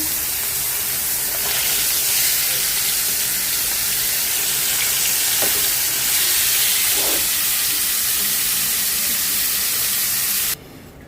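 A loud, steady hiss of fish coated in turmeric, chili and salt frying in hot oil fills the whole stretch, with a few faint clicks, before cutting off abruptly at the end.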